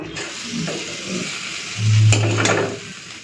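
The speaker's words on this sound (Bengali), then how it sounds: "বেশ ভেজে রাখা মাছগুলো দিয়ে দিলাম।" Fried hilsa fish pieces going into a pan and being stirred, a short clatter and scrape of a utensil over a soft sizzle, with a louder thump and rustle midway through.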